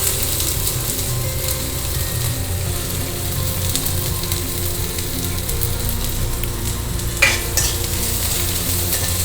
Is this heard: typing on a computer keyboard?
no